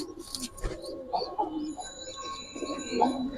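Giribaz pigeons cooing in a pigeon market, soft low coos and a few chirps close by, with light background noise.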